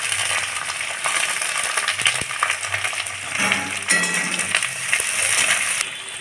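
Chopped onions sizzling in hot oil with fenugreek and garlic, a steady bright frying hiss with clinks and scraping of a utensil stirring the pan.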